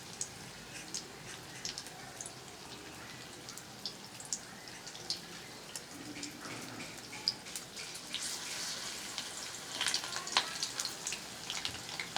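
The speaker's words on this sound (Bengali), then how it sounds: "একটু লাল লাল করে ভেজে নেবেন" Pumpkin flower fritters fry in oil with a faint, crackling sizzle and scattered small pops, quiet and continuous, growing slightly busier toward the end.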